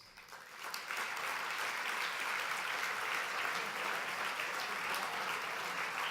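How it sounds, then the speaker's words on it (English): An audience at a dinner gives the organizing committee a round of applause. The clapping swells within the first second and then holds as a steady, dense crowd sound, heard from a distance and fairly faint. "could we give them a round of applause?"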